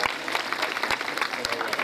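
Loud applause from a gathered crowd, with claps thick and steady for about two seconds under light background voices.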